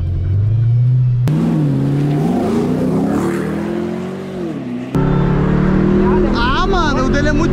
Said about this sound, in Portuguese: A gente vem acelerando, acelerando, acelerando. E plau, acelerou.